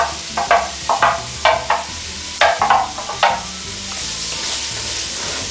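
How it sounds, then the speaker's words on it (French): Chopped shallots frying in a cast-iron cocotte while being stirred, with a steady close sizzle beneath a series of sharp scraping stir strokes in short bursts, then settling into a continuous hiss. "Dans la même cocotte, je vais faire revenir mes échalotes."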